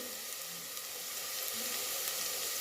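Onions with chilli powder and turmeric powder frying in a pan for a chana curry, giving a steady, even sizzle that holds at a moderate level throughout with no voices.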